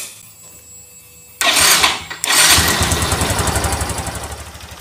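A motorcycle engine, fresh spark plug cap fitted, cranks and catches, then settles into a loud, close, steady idle with a rhythmic pulsing putter; no one talks.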